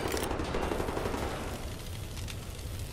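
Rapid gunfire from a weapon in the video game Wolfenstein: The New Order crackles in a dense, continuous burst that fills the whole stretch, loud and close, with no talk.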